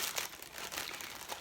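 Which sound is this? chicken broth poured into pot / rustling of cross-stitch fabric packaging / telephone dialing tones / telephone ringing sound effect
rustling of cross-stitch fabric packaging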